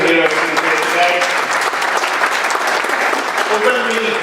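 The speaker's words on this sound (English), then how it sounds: "if people give a round of applause for the hero's son who is here today" A crowd at a screening event in Leeds applauds the hero's son, a dense, steady wash of clapping that fills the whole moment, with voices faintly mixed in.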